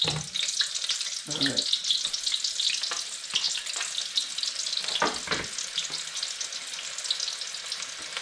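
Red onion sliding gently into a hot pan and frying with a steady, close sizzle, with a few louder crackles and stirring scrapes along the way; a voice speaks briefly near the start.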